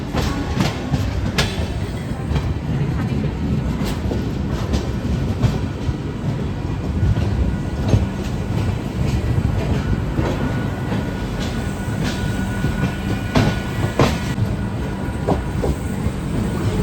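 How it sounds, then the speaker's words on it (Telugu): The Deccan Queen Express rolls steadily along the track, with a continuous rumble and faint rhythmic clicks of the wheels over rail joints, heard from on board with no talk. "Trains on same track."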